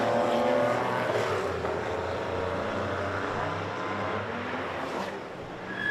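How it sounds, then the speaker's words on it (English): A Porsche 944 race car drives into the turn 3 hairpin at Victoria Park. It gives a steady, loud engine drone that dips slightly as it slows for the corner and stays clear of speech. "Here is the 944 now coming into the hairpin, the turn 3 hairpin."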